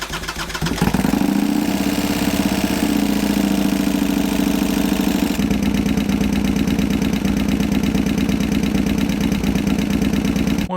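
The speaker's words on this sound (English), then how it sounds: "if you're curious what that sounds like after you fill it back up with oil" A Harley-Davidson Sportster motorcycle engine idles after being run dry of oil and overheating, then refilled. The engine fires up and holds a loud, rough, uneven idle with a knocking, clattering edge that continues steadily throughout.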